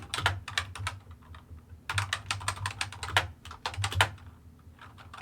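Keys tapped on a computer keyboard in quick irregular bursts, close and fairly loud, with brief pauses between flurries and no speech.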